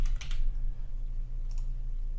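A few quick computer keyboard keystrokes, light clicky taps clustered at the start and one more shortly after, faint against a steady low electrical hum in a quiet room.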